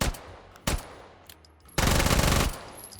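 A 9mm gun in the VR game H3VR, firing two single close shots, then a dense rapid burst that dumps rounds for about three-quarters of a second, loud and sharp, with small clicks between.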